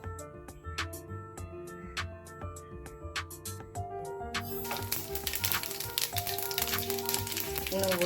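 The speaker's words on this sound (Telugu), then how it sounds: "రెండు టేబుల్ స్పూన్ ఆయిల్ వేసుకొని ఇప్పుడు దీంట్లో ఆవాలు, జీలకర్ర," Mustard seeds and cumin crackle and sizzle in two tablespoons of hot oil for a Telugu ridge gourd tomato chutney, sharp popping taps at first, then a dense loud sizzle swelling near the end, no talk.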